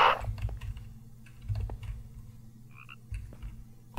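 A toad croaks in the game Minecraft, with a short croak standing out over a low droning game background and scattered keyboard clicks.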